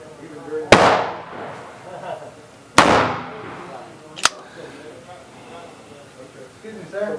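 Outdoor shooting range with reloaded ammunition being tested: two sharp, loud gunshots a couple of seconds apart, each ringing out with a long decaying echo, then a fainter crack, with someone speaking in between.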